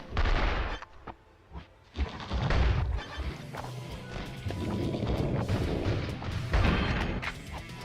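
Exploding critters fired from a critter cannon in the Mega Cat Studios game Bite the Bullet, repeated crashing blasts and thuds in quick irregular bursts, loud and close, amid continuous action noise.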